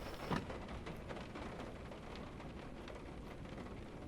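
Steady rain of an approaching storm falls in the video game Witch's Doll, a continuous even wash of patter with a faint crackle near the start, at low level and with no talk.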